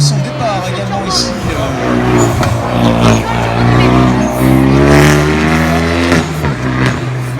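A BMW M3 race car in the FN4 class revs hard and accelerates away at the start of a hill climb run at Tancarville, loud and sustained, with a crowd murmuring and a commentator talking over it.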